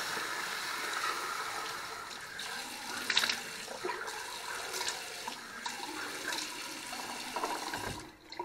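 Water runs steadily from a tap while a face is rinsed after shaving, a close, continuous splashing flow with a few brief louder splashes that cuts off near the end.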